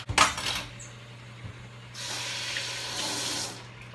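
Rinsed jar sprouts poured with their water into a screen, a short splash followed by a steady wet rush of pouring water, close and moderately loud, no talking.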